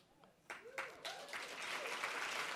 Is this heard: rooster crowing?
no